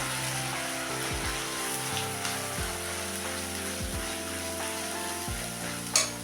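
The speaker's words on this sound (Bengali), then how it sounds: "একটু ভাজা ভাজা হবে, এবার আমি পেঁয়াজ বাটাটা দিয়ে দেবো।" Onion paste frying in a pan over a medium gas flame for a shahi egg korma, giving a steady close hiss of sizzling broken by a few soft stirring scrapes and a small clatter near the end.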